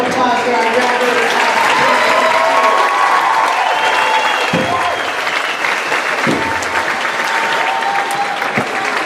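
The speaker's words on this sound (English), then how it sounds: "Another round of applause for our graduates." Crowd at a high school graduation ceremony gives the graduates a sustained round of applause, loud continuous clapping with some cheering and voices throughout.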